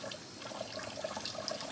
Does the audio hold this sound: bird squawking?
no